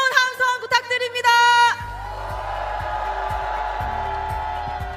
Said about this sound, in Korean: 여러분 뜨거운 함성 부탁드립니다.